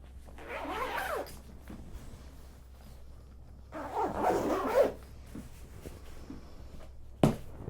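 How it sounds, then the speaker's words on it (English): A zipper being pulled shut on a rental violin case, two quiet scraping runs of about a second each, close up, then a brief knock near the end. "And then I'm going to zip it up."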